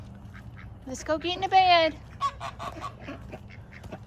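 Ducks quacking nearby at bedtime, a short burst of nasal honking calls mixed with a person talking to them.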